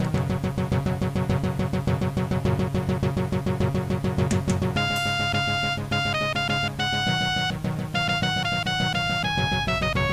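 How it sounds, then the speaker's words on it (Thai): Synthesized MIDI song playing steadily, thin electronic instrument tones carrying a melody over bass and beat, loud and continuous with no voices. "ตัวนี้คือเสียงมิดีโดยตรงนะครับ"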